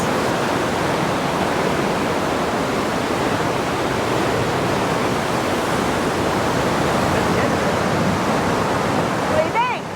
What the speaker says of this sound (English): if you don't like grates, don't come to this waterfall. I mean, this is flowing.